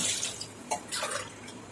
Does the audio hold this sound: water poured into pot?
yes